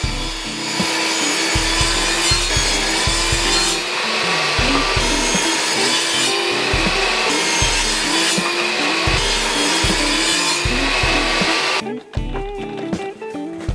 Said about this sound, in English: I start by cutting a plywood board into strips